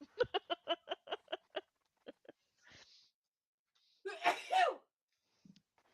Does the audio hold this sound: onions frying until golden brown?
no